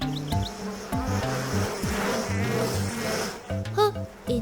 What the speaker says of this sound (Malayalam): ഹോ, എന്തുമാത്രം തേനീച്ചകൾ.